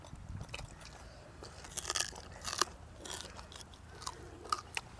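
Crisp deep-fried pork tail and fried quail are bitten and chewed up close, with a run of sharp, irregular crunches and softer chewing between them.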